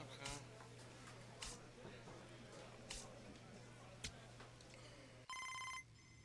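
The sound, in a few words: phone ringing in MLB The Show 26 video game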